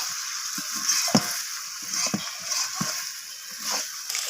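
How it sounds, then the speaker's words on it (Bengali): Chicken biryani with chopped coriander leaves is stirred in a pot over a wood-fired stove, with a continuous sizzle broken by repeated scraping and knocking strokes of the spoon, fairly close. "ধনিয়া পাতাটা দিয়ে আমি আবারও নাড়াচাড়া করে নিচ্ছি"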